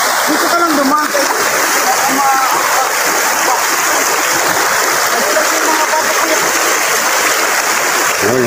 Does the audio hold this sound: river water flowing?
yes